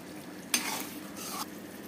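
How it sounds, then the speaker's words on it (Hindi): Todika and onion sabzi is stirred in a pan, with two close scraping strokes of a spoon against the metal over a faint background sizzle. "थोड़ा सा और चला देते हैं इसको अच्छे से"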